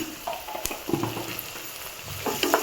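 Vegetables fry with garam masala in a pan for veg pulav, giving a soft continuous sizzle broken by a few utensil scrapes and taps, close and moderately quiet with no voices.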